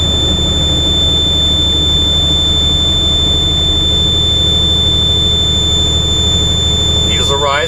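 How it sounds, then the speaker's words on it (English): A truck's low air pressure warning buzzer drones, steady and high-pitched, without pause over the low rumble of an idling engine during an air brake test. "Just after 60 pounds, the low warning alarm should go off."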